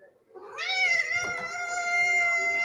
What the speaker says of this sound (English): This cat sounds exactly like a squeaky toy.